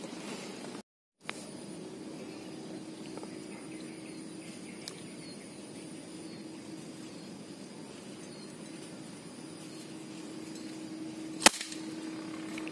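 A single air rifle shot at a target gives one sharp, brief crack near the end, standing out against a quiet outdoor background with faint insect hum.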